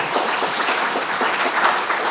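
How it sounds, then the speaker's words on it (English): An audience at a policy think tank on steatotic liver disease claps steadily, dense even applause with no voices over it. "Let's give him a round of applause."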